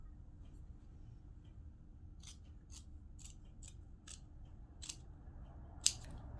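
Scissors snip through lace dress fabric in a quiet room, a series of short, crisp cuts spaced irregularly about half a second apart, with one sharper, louder snip near the end, heard alone.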